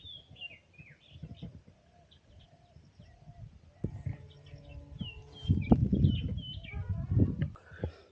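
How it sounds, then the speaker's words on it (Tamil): Sparrows chirping in a forest, many small quick tweets scattered throughout at moderate distance, partly under a person's talking. "காட்டில் குருவிங்களோட சத்தம்லாம் எவ்வளோ சூப்பராக இருக்குது பார்த்தீங்களா?"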